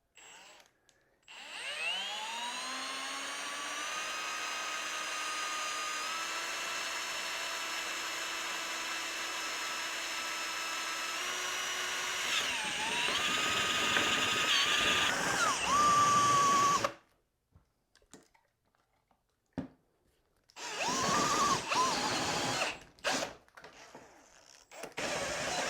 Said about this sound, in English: No worries at all with the normal drill driver and the Milwaukee bit